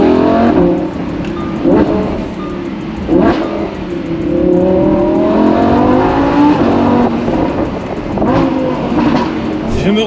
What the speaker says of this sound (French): les petites accélérations, je ne dépasse pas les 6000 tours minute et la zone rouge est à 9000 quasiment